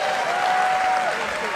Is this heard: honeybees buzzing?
no